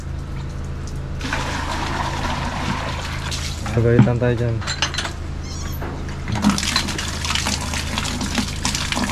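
Water poured by hand to bathe an elderly man at a hut, splashing and gushing in bursts while people talk nearby throughout.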